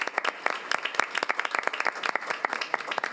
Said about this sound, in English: Give them one more round of applause to Kane Ridge